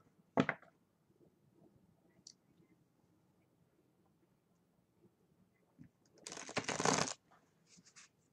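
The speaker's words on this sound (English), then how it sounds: "I'm going to be shuffling and picking out the cards as I go" Tarot cards are shuffled close by in a quiet room: one quick riffle at the start, a few faint taps, then a longer burst of crisp riffling near the end.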